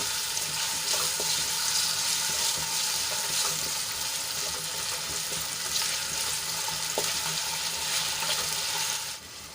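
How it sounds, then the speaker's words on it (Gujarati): Diced potatoes sautéing in hot oil for a fasting-day morai khichdi: a close, steady sizzle and crackle running throughout, with occasional faint stirring clinks and no talk. "અહીંયા બટેટા આપણા પચાસ ટકા ચડી જાય ત્યાં સુધી આપણે એને તેલમાં સાંતળી લઈશું"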